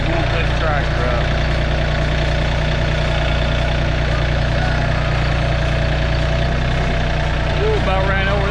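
Farm tractor engine idling steadily and loudly at close range on a rainy farm, a constant low rumble throughout with faint voices over it.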